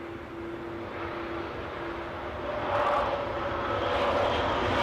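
An airliner arrives at London Heathrow, its engines producing a steady, broad roar that grows louder over a few seconds as it approaches, with no voices.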